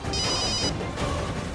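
A telephone rings indoors in a domestic drama scene, a continuous electronic bell trill that repeats with a short break, fairly loud and alone with no talk.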